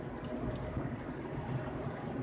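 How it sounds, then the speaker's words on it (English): Heavy rain pours down in a steady, dense hiss with a low rumbling undertone, constant and fairly loud throughout, with no voices. "It's raining, y'all. It's raining like cats and dogs."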